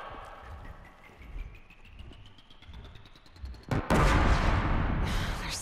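A blast bomb detonating in the Horizon Zero Dawn video game: a quiet rising whine builds, then one sudden loud burst breaks into a sustained, roaring rumble that carries to the end.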